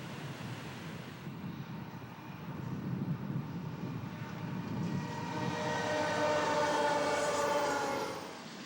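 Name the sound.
freight train rolling through Cajon Pass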